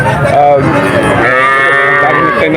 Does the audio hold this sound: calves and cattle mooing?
yes